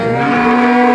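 A cow moos in one long, steady call at a dairy farm in Dinajpur, close and loud, with no talk over it.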